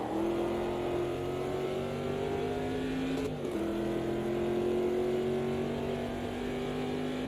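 Race car engine in the sim game Automobilista 2, a sustained high-pitched drone that holds steady, dips briefly at a gear change, then climbs again, loud and close with no talking.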